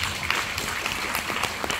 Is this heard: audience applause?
yes